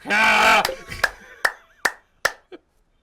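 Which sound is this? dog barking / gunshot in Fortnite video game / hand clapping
hand clapping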